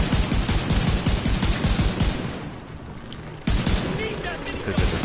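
Automated turrets in The Division 2 fire rapid sustained bursts, loud and close, with a short lull before the shooting resumes at full intensity.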